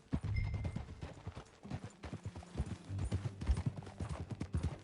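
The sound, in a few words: horse hooves clip-clopping while riding in video game Red Dead Redemption 2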